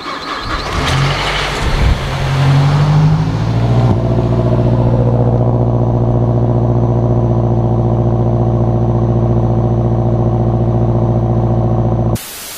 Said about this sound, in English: Sounds absolutely unreal on a cold start.